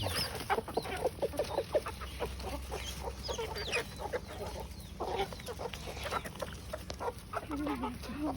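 Chickens clucking and calling close by, a steady busy flock with young grey roosters, overlapping short clucks and occasional louder squawks, no talking.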